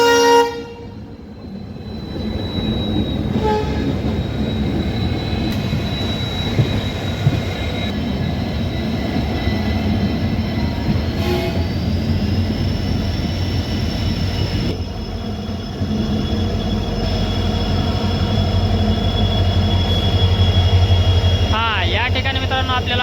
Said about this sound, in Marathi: मित्रांनो आपल्याला क्रॉसिंग होत आहे कोणती तरी ट्रेन